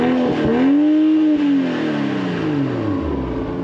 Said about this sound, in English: let's go ahead and fire it up so you can hear what that engine sounds like.